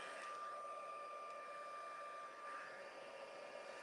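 A heat gun blows steadily while warming stamped heat embossing ink, a constant airy whine and hum at moderate level, unbroken for a few seconds with no talk.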